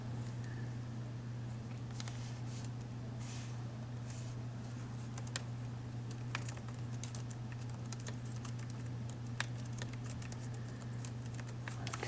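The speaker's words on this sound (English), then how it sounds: "So we're gonna type in there regional market share." Typing on a computer keyboard in an office setting, soft quick key taps in irregular bursts over a low steady hum, faint and close, with no talking.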